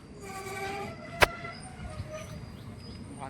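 A train departing a busy station platform, its low rumble running throughout with a sharp, brief horn blast near the start and faint tonal squeals above.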